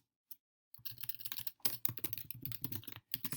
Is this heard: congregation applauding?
no